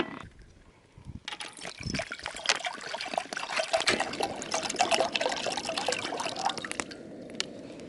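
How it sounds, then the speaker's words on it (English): Steady rain pattering outdoors at a campsite in Nanaimo, BC, a dense patter of drops with scattered louder splats, continuous and fairly close throughout. "the rain is really starting to come down now"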